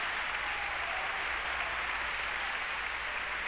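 Continuous, distant applause from a San Francisco Opera audience at a Lohengrin curtain call, an unbroken low-level roar of many hands clapping with a slight low hum underneath.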